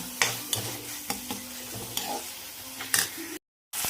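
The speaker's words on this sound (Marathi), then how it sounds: "टोमॅटो, वाटण, कांदा हे छान मी आता परतून घेते." Tomato, ground masala paste and onion sauté in a hot pan for dry mutton curry, a close sizzle broken by repeated scraping strokes of a spoon stirring, ending abruptly.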